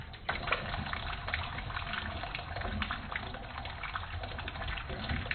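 Water flowing through a P-trap drain pipe with a small vent hole, a steady close gushing and gurgling that runs continuously without a break.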